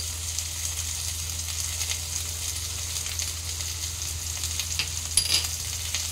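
Green chili paste and ginger paste sizzle in a frying pan with fried potato and papaya, a continuous close frying hiss with light stirring, swelling briefly near the end.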